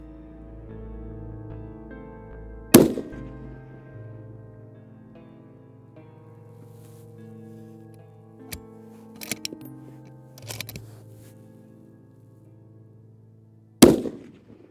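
Two sharp, loud gunshots aimed at a cardboard chest target crack about eleven seconds apart over a low hum, with a few fainter pops and clicks in between.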